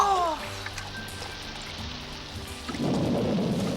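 Cartoon storm with steady rain pattering down and low rumbling thunder, a louder surge of rain and rumble swelling near the end.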